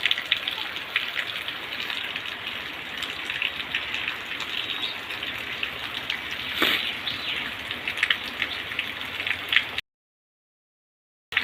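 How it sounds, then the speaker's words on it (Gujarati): Rain falls on Ashadhi Beej and slowly grows heavier, a continuous close hiss with occasional louder splashes and one brief sharp burst near the end before the sound cuts to silence. "ધીમે ધીમે વરસાદની ગતિ વધતી જાય છે"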